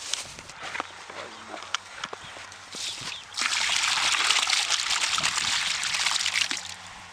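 Water rushes out as it is released from a pond or channel where small fish such as crucian carp are caught. The flow grows from a trickle to a steady, louder gush halfway through, over faint background noise.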